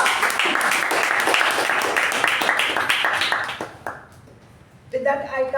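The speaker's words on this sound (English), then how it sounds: "With that, a huge round of applause to our MC Toastmaster Shuba." A Toastmasters club meeting audience claps in a lively round for the master of ceremonies. The applause fades out near the four-second mark, and then a voice begins speaking.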